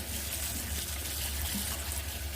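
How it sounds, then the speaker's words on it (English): Cold water in a plugged sink as grapes are gently rolled around to wash them, a steady soft trickling and sloshing close by with no talk. "I just plug the sink, fill it full of cold water, and gently roll them around."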